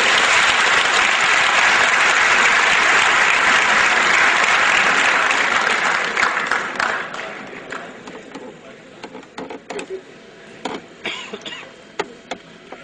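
An audience claps loudly and continuously in rhythm for several seconds, then the applause thins into scattered claps, with some coughing and murmuring underneath.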